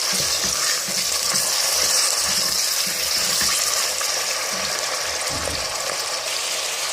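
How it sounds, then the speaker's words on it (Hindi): Mutton fries in a pan for a mutton and apple gourd curry, a loud continuous sizzle with rhythmic stirring scrapes and no voices. "और अब हम इसके अंदर मीट को ऐड करेंगे।"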